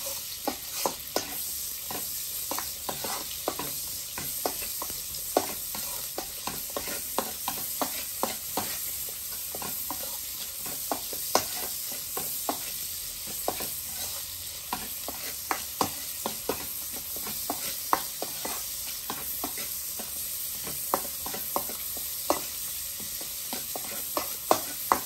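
Onion and garlic sauté in a pan with a continuous moderate sizzle, punctuated by frequent stirring clicks and scrapes throughout, with no talking.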